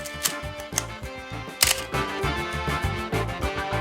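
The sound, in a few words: Canon AE-1 film camera shutter release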